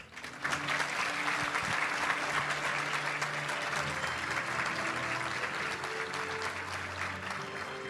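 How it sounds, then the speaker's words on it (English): A big round of applause for an honoree at a Little Rock Touchdown Club awards luncheon, loud continuous clapping from a packed room holding steady for nearly eight seconds. "let's give a big round of applause for Jakai Hunter"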